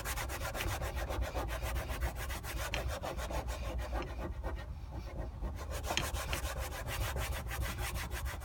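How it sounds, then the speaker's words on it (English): Brisk, steady rubbing of an alcohol wipe scrubbing leftover adhesive and primer residue from a surface after a mounting plate is removed, rapid continuous strokes close up with a short lull midway and no talking. "I'm going to use my last alcohol wipe to remove the rest of the adhesive."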